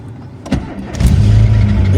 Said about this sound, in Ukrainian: Ну що, холодний запуск. Стартерок мені зробили.